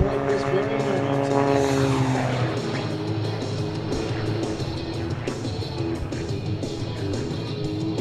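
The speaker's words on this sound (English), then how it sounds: "the Aftershock 1940 Ford fire truck powered by those 2 jet engines is going to have a standing start" The Aftershock, a 1940 Ford fire truck powered by two jet engines, roars loudly at an air show, a sustained jet howl with a falling whine early on, under a crowd and announcer.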